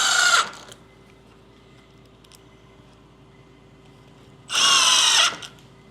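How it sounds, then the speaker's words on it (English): A power drill driver with a magnetic bit drives screws while building a mobile chicken coop: two short, loud whirring bursts separated by several seconds of quiet. "A really nice upgrade to your drill and driver is a magnetic bit"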